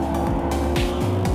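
A Lamborghini Revuelto's 6.5-litre naturally aspirated V12 hybrid revs hard in Corsa mode, loud and close, climbing in pitch through rapid gear changes with brief dips between shifts.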